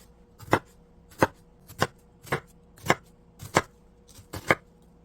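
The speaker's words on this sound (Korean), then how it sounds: "양파는 이렇게 곱게 자를 수가 있습니다" A knife finely chops an onion on a cutting board in seven crisp, evenly spaced strokes, close and clear against a quiet kitchen with no talk.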